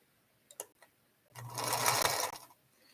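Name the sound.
sewing machine stitching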